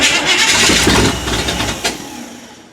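Engine of a 1979 Chevy K20 truck cranking and catching, a loud close rumble that surges then fades into a rougher sputter over a few seconds, no voices.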